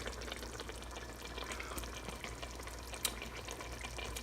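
Chili with smoked paprika and celery salt cooks in a pot and is stirred, giving a steady bubbling sizzle with soft stirring scrapes throughout and no talking.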